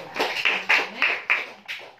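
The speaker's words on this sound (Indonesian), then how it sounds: "Tepuk tangan dulu." Scattered audience clapping at a church sermon, a handful of loose, uneven bursts of hands coming in waves over a couple of seconds, moderately close and without talk.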